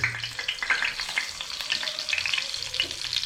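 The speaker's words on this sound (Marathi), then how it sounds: "आपण असं तव्यावरती बांगडा फ्राय आपल्याला करायचा तेल पण असं तापलं आहे" Small mackerel (bangda) fry in hot oil on a tawa, a steady crackling sizzle with bursts of spitting, close and continuous throughout.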